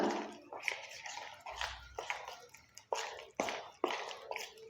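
Henna paste being mixed in a bowl with added ingredients, a series of wet, squishy stirring strokes in an uneven rhythm, close up and fairly quiet.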